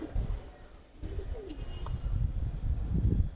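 Pigeons in a loft cooing close by, low repeated throaty coos with a brief higher chirp in the middle.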